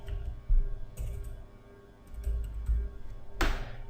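Typing on a computer keyboard, scattered clicks and taps close by in short clusters over a low background hum.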